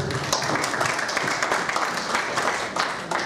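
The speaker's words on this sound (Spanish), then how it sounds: "Un fuerte aplauso." Audience applause at a science lecture on quantum theory and the Higgs boson, a dense steady wash of clapping that holds evenly for the whole span, with no voice over it.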